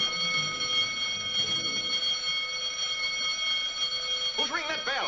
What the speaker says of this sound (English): Who's ringing that bell?